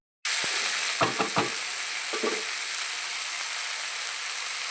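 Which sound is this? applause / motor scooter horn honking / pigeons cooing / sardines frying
sardines frying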